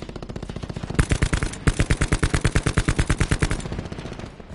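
Machine gun fire in Call of Duty 4 on PS4, a rapid sustained burst of evenly spaced loud shots, briefly interrupted, then continuing before tailing off.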